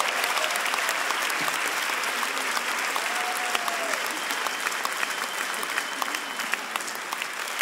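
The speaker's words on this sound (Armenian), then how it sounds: "Եկեք բարձր ծափարենք" A live concert audience in Los Angeles applauding loudly, a dense, continuous clapping that fills the whole stretch without a break, with faint voices in the crowd.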